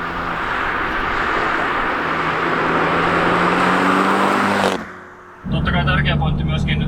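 A small, light Abarth car being driven, its engine droning loud and close with a rising pitch as it accelerates, then cutting out abruptly into near quiet before the engine sound returns.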